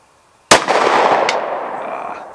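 A single sharp Glock 26 pistol shot fired at close range, a loud crack followed by a long echoing decay, with a faint second click shortly after.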